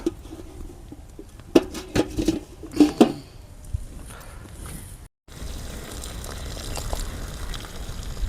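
Pot of rice for lemon rice set on the stove, a run of close metallic clanks and knocks of pots and utensils, followed by a steadier low hiss and faint bubbling.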